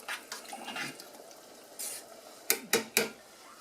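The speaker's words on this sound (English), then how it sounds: "I'm going to put a lid on that" A lid set onto a pot of macaroni and tomatoes cooking on the stove, heard as three quick, close metallic clanks after some soft stirring and kitchen clatter.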